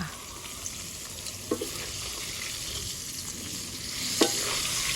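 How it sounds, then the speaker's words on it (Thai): Pieces of tilapia fish fry in oil with a continuous close sizzle, joined by a few soft clicks and scrapes of a utensil. "เขาก็ทอดเนื้อปลามาได้หานาทีแล้วจ้ะ"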